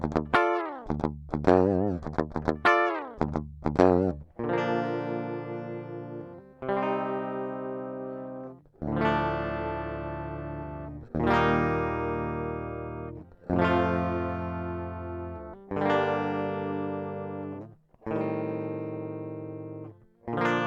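Guitar runs through a Countryman Type 85 DI box and a Radial Shotgun with nothing connected to the amp out. Quick plucked notes open, then a series of long, ringing, effect-laden chords follows, each swelling and decaying, with no voice.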